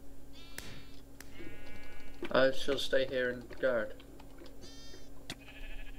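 Sheep bleat in a Minecraft minigame on the Mineplex server, several short game-sound bleats over background game noise and keyboard typing while players talk.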